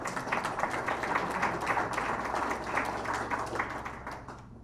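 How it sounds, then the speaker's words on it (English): An audience at an energy policy panel discussion applauds a panelist with steady, dense clapping that continues evenly for several seconds before thinning out at the end. "Round of applause for Barry."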